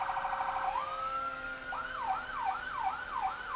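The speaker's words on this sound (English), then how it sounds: "Police car, we've got Oakbrook Terrace fire trucks." Police car and fire truck sirens pass in a town lilac parade, a steady wail sliding into rapid repeating whoops, moderately loud and fairly close, heard alone with no talking.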